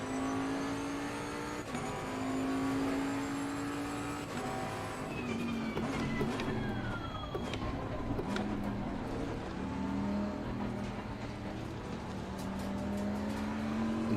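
A Bentley Continental GT3 race car engine in Assetto Corsa Competizione drones steadily, climbing and dropping in pitch through gear changes as it accelerates and brakes on track at Zandvoort. The engine is heard alone, fairly close.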